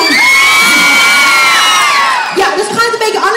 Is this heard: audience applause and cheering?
yes